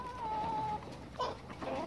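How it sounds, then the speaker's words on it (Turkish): A young rooster in a chicken coop gives a short, faint drawn-out call followed by a couple of brief clucking notes. "Kesin horoz çıktı."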